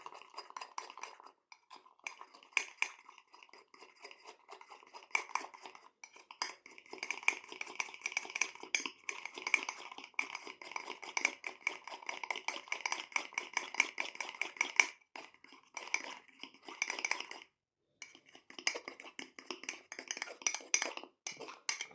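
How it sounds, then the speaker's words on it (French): A spoon stirring yogurt mug cake batter in a mug, rapid close clinking and scraping taps that go on almost continuously, with brief pauses. "Donc on mélange comme il faut"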